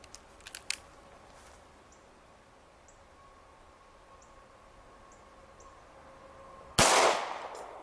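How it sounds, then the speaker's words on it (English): A 9mm pistol fired at a gate lock, a single sharp, loud crack near the end after a stretch of quiet with a few faint clicks early on. "Let's see if we can open it up with a 9mm pistol."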